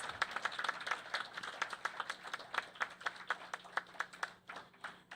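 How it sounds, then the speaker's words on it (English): Applause at a school district awards ceremony, a modest audience clapping with distinct, fairly regular hand claps that thin out toward the end. "If we can give everybody another round of applause."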